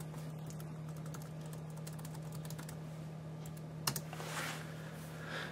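Faint, rapid keystrokes on a smartphone's on-screen keyboard while searching Google on a Droid Original, light irregular taps over a steady hum, with a sharper click near the end.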